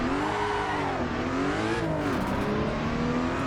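Race car engine in Assetto Corsa EVO stuttering off the starting line, a loud steady drone with wavering, hesitating pitch and no talk over it.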